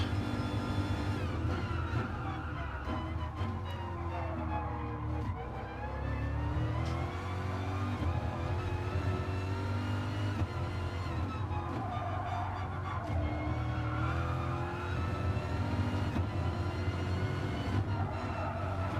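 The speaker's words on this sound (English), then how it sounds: "It's a big throaty V8." A deep, throaty Corvette V8 engine in GT Sport at Laguna Seca rumbles steadily, revving and droning continuously up close with no talking over it.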